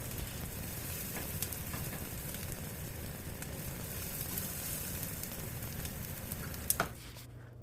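Onions sautéing in oil for an egg kurma, a steady close sizzle and crackle running continuously with an occasional stirring clink near the end.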